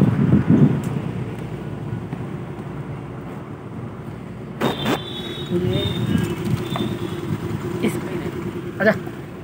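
Road traffic passes by outdoors with a constant low rumble and wind noise, and a couple of vehicles rush past more loudly around the middle of the stretch while someone talks over it.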